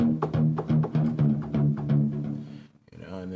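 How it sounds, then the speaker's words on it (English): Access Virus synthesizer played through Ableton Live: a loud, sustained tonal line with a steady low drone and repeated plucked note attacks in a regular rhythm, a brief dip near the end, no talking. "Now my virus sounds like this."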